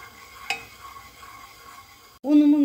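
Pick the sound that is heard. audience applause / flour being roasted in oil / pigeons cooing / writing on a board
flour being roasted in oil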